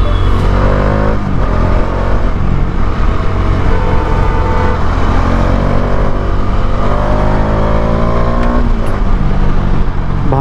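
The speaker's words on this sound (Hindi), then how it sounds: "भाई साहब भाग रही है भाई, बाइक भाग रही है।" A Bajaj Dominar 400 motorcycle, just back from service, accelerates hard, its engine note rising in pitch as it pulls steadily, loud and close, running continuously for the whole stretch with some wind roar.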